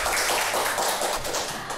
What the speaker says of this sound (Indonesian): Luar biasa, tepuk tangan buat Ibu Juju.